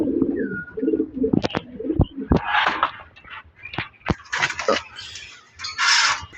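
Racing pigeons coo repeatedly at close range in a loft, low throaty calls mixed with wing flutters and sharp taps, with a faint voice in the background.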